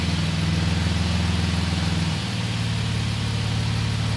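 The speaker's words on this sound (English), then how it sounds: "I can hear that there's an exhaust leak between the upper and lower downpipe" An Infiniti Q60 idles steadily and loudly close by, its engine note dropping slightly partway through, with a raspy edge from an exhaust leak between the upper and lower downpipe.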